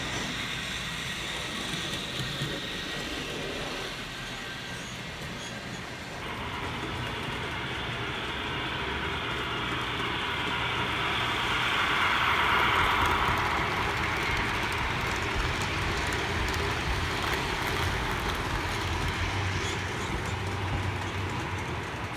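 Continuous rumbling whir of model trains, including a rail bus, running along track, swelling louder midway as one passes close, with a steady mechanical clatter.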